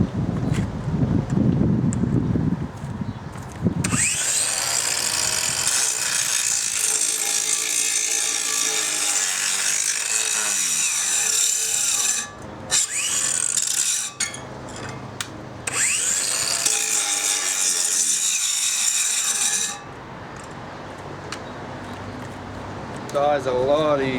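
Makita DGA504 cordless brushless angle grinder grinding, a loud steady high whine running continuously for most of the stretch with a few brief drops and dips, some low rumble at the start and speech occurring around it.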